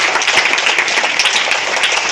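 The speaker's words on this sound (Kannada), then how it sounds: "ಅವರಿಗೆ ಮತ್ತೊಮ್ಮೆ ಚಪ್ಪಾಳೆ ಹೊಳಿದ್ರ ಮೂಲಕ ಅವರನ್ನು ಗೌರವಿಸಿದ್ದಾರೆ" An audience claps loudly and continuously at a government school event where bags are handed out to schoolchildren, a dense, even applause with no voices.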